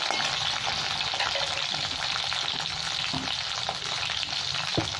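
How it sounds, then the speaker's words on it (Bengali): Mixed vegetables sizzle steadily in a hot pan for a vegetable daal, a continuous close crackle with occasional stirring scrapes and a sharp knock near the end, no voices. "এগুলো ভাজবো আর সাইডে ডালের মধ্যেই দিয়ে দেবো"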